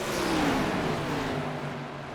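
Race cars running at Pocono Raceway in a multi-car fight for the lead, a steady roaring engine drone with a rising whine as one car accelerates, moderately distant and alone without talk.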